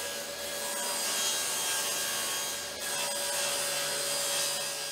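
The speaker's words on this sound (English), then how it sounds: "I can switch to 1/2 inch plywood and cut out those parts" Band saw cutting through 1/2 inch plywood parts in a workshop, a steady, loud continuous rasping whine held for nearly five seconds with a brief dip midway, no voices.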